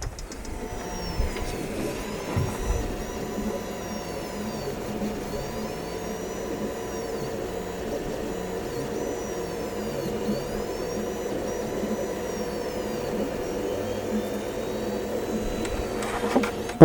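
A 3D printer laying down a part, its stepper motors whirring in a steady, sustained hum with faint rising and falling whines over continuous mechanical drone, close and moderately loud with no voices.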